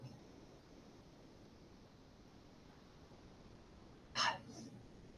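A single short sneeze bursts out sharply near the end of an anatomy class lecture, against a faint hiss of quiet room noise.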